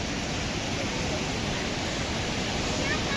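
Steady broadband rush of abundant flowing river water at Panchavati Ganga Ghat in Nashik, a continuous even roar filling the whole stretch without breaks.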